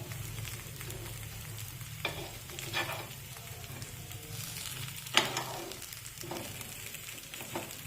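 Green moong appe fry in an appe pan with a soft, steady sizzle, faint and close, punctuated by a few brief scrapes and clinks of turning, without speech.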